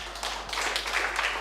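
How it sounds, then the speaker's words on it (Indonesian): A church congregation claps their hands for Jesus during a Sunday service, a brief, faint patter of many hands that stays steady throughout. "Tepuk tangan yang buat Tuhan Yesus."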